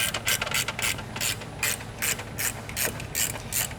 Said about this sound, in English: I'll go ahead and use a 13mm ratchet wrench